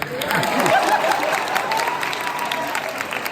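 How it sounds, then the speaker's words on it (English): A comedy show audience breaks into applause, a dense wash of clapping with some cheering and voices mixed in, steady for a few seconds. "Round of applause"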